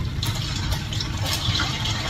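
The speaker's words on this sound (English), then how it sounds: "Okay, now the fries go in." Potato fries dropped into hot oil in a pan on high heat, a loud close hissing sizzle with bubbling crackle holding steady for about two seconds.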